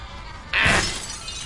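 Glass shatters in a short, bright burst of breaking in the video game Beyond: Two Souls, loud and close, with no talk over it.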